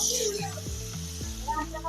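Mustard oil sizzling in a hot wok, a steady bright crackle and hiss running throughout, with a voice speaking over it.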